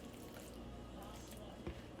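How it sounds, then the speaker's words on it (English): A chicken alfredo and broccoli mixture is poured into an 11 by 7 baking dish, giving a steady wet sloshing with a soft squelch and thud near the end, heard close. "We just simply take all of this, super easy, pour it into an 11 by 7."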